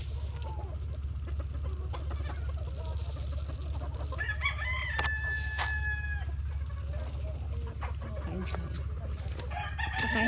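Chickens cluck steadily nearby while a rooster lets out a loud, drawn-out crow partway through, over a constant low hum.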